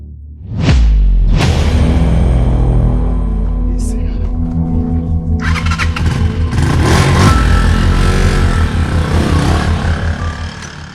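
A motorcycle engine starts and revs close by, loud and sustained with rising and falling pitch through the whole clip, a sharp rev burst near the start and people talking over it.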